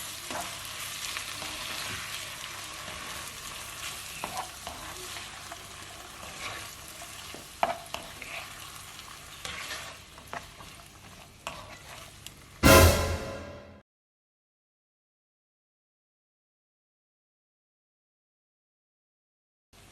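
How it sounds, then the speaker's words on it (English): Vegetables stirred in a hot pan with sweet chili and chili sauce for Indo Chinese chicken fried rice, close steady sizzling with repeated scraping strokes that stop abruptly into silence for the last few seconds. "sweet chili and chili sauce. Give that a good mix."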